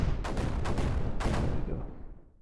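Automated turrets fire in a video game as a string of sharp, loud blasts over a dense rumbling low end, with several distinct bursts before the sound tails off.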